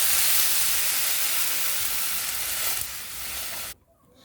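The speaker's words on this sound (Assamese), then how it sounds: "এতিয়া মই এড কৰিম পানী" Loud, steady sizzle as water hits chickpeas frying in hot oil in a pan, a dense hiss that runs for several seconds and then cuts off abruptly near the end.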